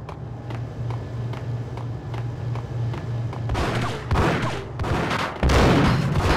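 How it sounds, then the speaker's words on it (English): Gunfire and a grenade blast in the Max Payne video game, starting with a steady ticking pulse under a low hum, then a run of loud broadband bursts and a heavy final explosion. "That's a fucking grenade!"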